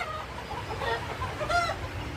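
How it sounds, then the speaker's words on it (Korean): Young silkie chickens cluck and chirp close by on a rural farm, with a few short, bright calls in quick succession over soft background noise. "오골계 닭새끼를 보여드리겠습니다"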